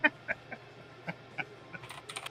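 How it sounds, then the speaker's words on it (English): Quick keystrokes on a computer keyboard, a handful of scattered clicks over a couple of seconds, then a denser flurry at the end, fairly quiet against a low steady hum. "Oh Lord! I hear typing."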